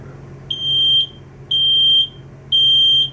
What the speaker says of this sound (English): test smoke detectors twice a month using the button located on the front of the detector